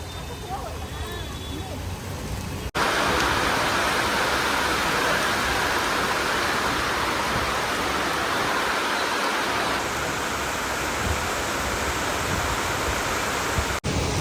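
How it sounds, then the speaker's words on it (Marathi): Heavy rain pours steadily in Kalyan, a loud continuous broadband wash that starts abruptly after a couple of seconds and holds almost unchanged to the end. "पाऊस तर भाई अजून पण थांबायचं काय नाव नाही घेते."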